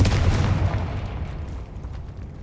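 A Confringo fire spell explodes in Hogwarts Legacy, a loud booming blast with a rumbling low tail that slowly fades over a couple of seconds, with no voices over it.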